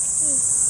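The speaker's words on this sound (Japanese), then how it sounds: "まだ夏の始まりなんでニーニーゼミの声がしております。" Kaempfer cicadas calling in a park in Inzai, Chiba, in early summer: a steady, shrill, high-pitched buzzing drone that holds without a break.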